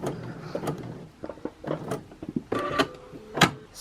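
A sewing machine stitching fabric and back stitching at the end of a seam, with irregular mechanical whirring and clattering bursts, a few sharper clicks, moderately close and without talk.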